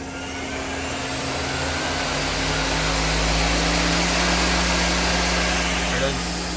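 A 2011 Doosan Lynx 300 CNC lathe, its servo-driven turret machine fitted with a 12-inch chuck spinning at 2,000 RPM, gives a steady, even mechanical whir with tonal hum, loud and continuous throughout without pauses.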